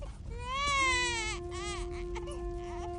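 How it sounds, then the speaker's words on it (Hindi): A baby cries in rising, wailing bursts with whimpering breaths between, close and clear against a quiet background. "बच्चे की रोने की आवाज तो मेरे आंगन से ही आ रही है"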